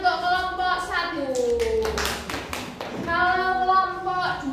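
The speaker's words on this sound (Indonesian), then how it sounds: "tepuk tangan untuk kelompok 1" A classroom group of children claps for their discussion group, several seconds of busy, uneven applause with a teacher and kids talking before and after it.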